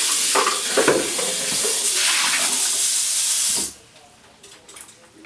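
Steady rushing water pours into a blender jar for a few seconds as it is rinsed out, with sloshing, then stops abruptly, leaving quiet handling noises.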